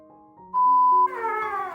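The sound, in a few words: kitten (Angora cat) meowing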